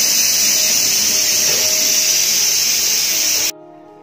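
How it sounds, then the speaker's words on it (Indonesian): A pressure cooker cooking homemade sardines gives a steady, loud broadband hiss that holds for about three and a half seconds, then cuts off abruptly, leaving a faint low hum. "Kita presto ikan sardennya 30 menit."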